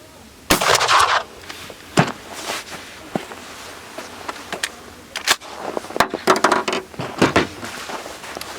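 Several sharp, loud blasts from a Mossberg 500 12-gauge shotgun with a full choke fire at irregular intervals, each followed by a brief echo and some quieter handling clatter between shots.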